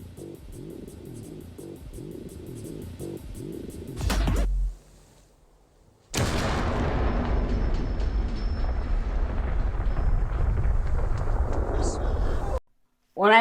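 A 5 kilogram TNT charge detonates outdoors in an Arctic winter setting, a loud booming blast that cuts off abruptly and then rolls into a long, dense rumble, with voices heard before it.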